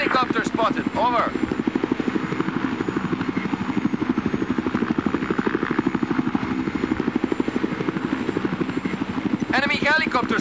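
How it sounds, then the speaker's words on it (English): A Z-11 scout helicopter in the Battlefield 4 video game gives off a loud, steady, rapid rotor chop throughout, with brief radio-style voice callouts at the start and end. "Enemy helicopter spotted."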